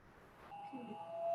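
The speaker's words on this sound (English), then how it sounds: "if you exceed your time, you hear bell" A quiz time-up bell gives a single soft ding that rings on briefly in a classroom, fairly faint against low room noise.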